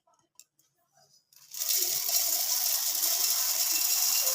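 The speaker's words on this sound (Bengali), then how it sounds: "আমি মুড়িগুলো মিক্সির মধ্যে দিয়ে দিলাম।" Puffed rice poured into a mixer grinder jar: a few light taps and rattles, then a steady loud rushing patter of grains spilling in continuously to the end.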